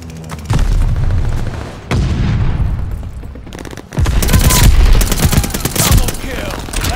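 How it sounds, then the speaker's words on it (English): Bombing-run explosions in the shooter game Call of Duty: Vanguard, loud booms and rattling gunfire in repeated bursts, with dense blasts building toward the end. "Teammate called a bombing run."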